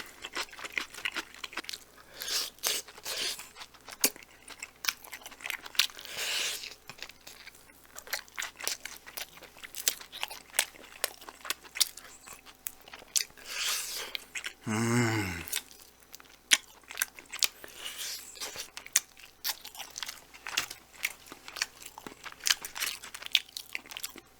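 Close, crisp crunches and chewing come from someone eating garlic teriyaki-style fried chicken, with bites scattered unevenly throughout and a brief low vocal sound partway through.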